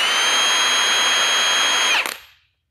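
A Milwaukee 2767 impact wrench runs at its second power level, a loud, steady high-pitched whir that holds for about two seconds and then cuts off and winds down into silence.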